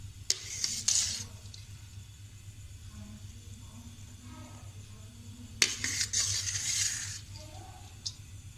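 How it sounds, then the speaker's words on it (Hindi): Boiled rice tipped into a pot of korma for biryani layering, with two bursts of scraping and clinking from a metal spoon against the pot, separated by a quieter stretch under a low steady hum. "कोरमे में अब हम चावल डाल देंगे बॉयल किए हुए।"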